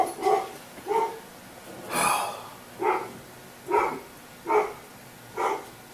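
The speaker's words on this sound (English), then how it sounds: "Yes, you do hear my dog." A dog barking indoors, about eight separate short barks spaced roughly evenly over several seconds, moderately loud and close, with no talk over them.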